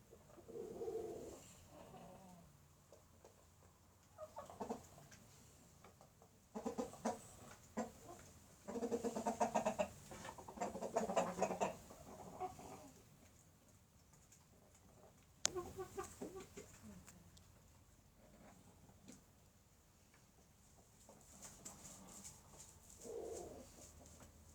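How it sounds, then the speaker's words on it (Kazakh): Chickens in a coop cluck and murmur softly, faint and intermittent, with brief busier flurries of clucking and no voices. "Тауықтар мырқырап тұр жайлап."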